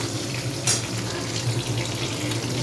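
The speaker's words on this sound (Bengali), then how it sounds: "মাছগুলোকে আমি ভালোভাবে ভেজে নেব" Hilsa fish fry in hot oil, giving a steady, fairly loud sizzling hiss with one brief sharper burst near the start.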